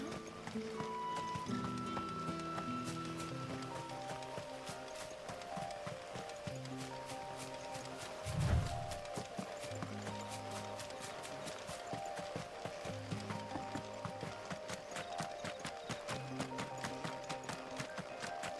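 Rhythmic horse hoofbeats from riding in Final Fantasy XVI keep up a quick, even gallop under a sustained orchestral score, fairly soft and mixed low, with one brief louder thump midway.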